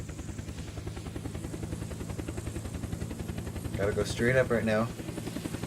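Helicopter in the video game Unturned, a steady rotor drone running throughout at an even level while a person talks over it.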